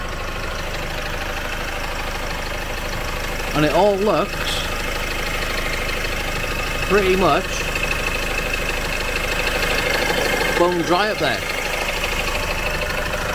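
A Vauxhall Astra J 1.6 CDTI diesel engine with an oil cooler leak idles on a garage ramp, a steady, even ticking-over drone running the whole time under a voice.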